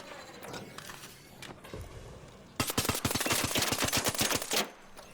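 Bursts of rapid automatic gunfire in the Arc Raiders shooter game, a dense run of sharp, loud, evenly spaced shots lasting about two seconds, preceded by quieter scattered shots and game noise.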